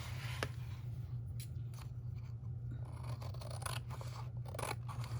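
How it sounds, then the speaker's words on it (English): Paper being trimmed with scissors for a mini album, a series of crisp close snips and slicing cuts at an uneven pace over a low steady hum, with no talking. "Well, I could do it right now with my scissors."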